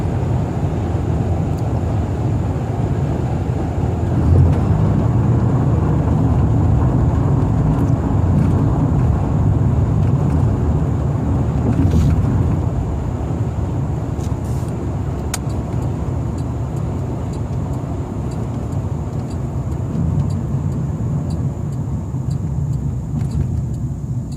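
A 1990 Cadillac Coupe DeVille cruises along the road, a steady loud low engine and road rumble heard from inside the cabin, gradually easing off as it slows.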